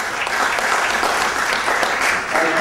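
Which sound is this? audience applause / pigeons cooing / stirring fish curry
audience applause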